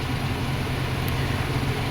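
A 1995 Suzuki Escudo engine idles at about 877 RPM, a steady low rumble close by that holds an even level throughout with no talk over it.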